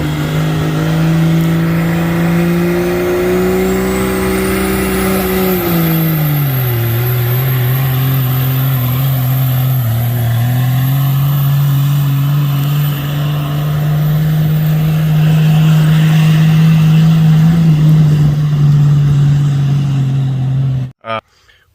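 A 12-valve diesel swapped into a Ford F150 with a turbo revs hard while pulling a sled, a loud, sustained engine roar that dips and climbs in pitch, with a high turbo whistle above, cutting off abruptly at the end.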